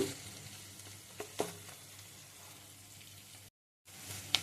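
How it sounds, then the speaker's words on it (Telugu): Onions and green chillies with turmeric fry quietly in a pan, a soft steady sizzle broken by a few utensil taps and stirring scrapes, with a brief dropout near the end. "ఉల్లిపాయలు, పచ్చిమిర్చి బాగా వేగినాయండి"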